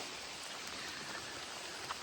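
A brief stretch of soft, steady rain on a trek to Kalanidhigad fort, a faint even hiss with scattered drops.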